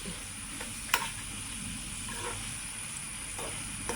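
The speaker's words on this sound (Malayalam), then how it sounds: "നമുക്ക് എല്ലാം കൂടി ഇങ്ങനെ മിക്സ് ചെയ്ത് ഒന്ന് ഇതാക്കി കൊടുക്കാം" Prawns being stirred and fried in a pan for a Kerala-style chemmeen mulakittath, a steady low sizzle with a few sharp scraping clinks of a spatula, close and fairly quiet, no talk.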